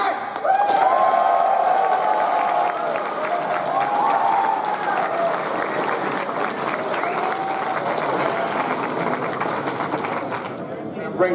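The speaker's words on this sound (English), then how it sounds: "Last but not least, give a round of applause for Matt." Loud, continuous audience applause with cheering at a comedy show at an anime convention, a dense wash of clapping and shouts that holds steady throughout.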